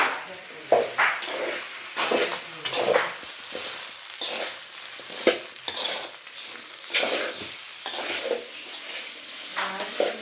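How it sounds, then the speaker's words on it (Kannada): Mushroom pepper dry manchurian being stirred and tossed in a pan after pepper powder goes in, giving a run of close scraping and clattering strokes over a light sizzle, with no talk. "ಅದನ್ನು ಹಾಕಿ ಫುಲ್ ಮಿಕ್ಸ್ ಮಾಡ್ಕೊಂಬಿಡೋಣ. ಚೆನ್ನಾಗಿ ಮಿಕ್ಸ್ ಮಾಡೋಣ."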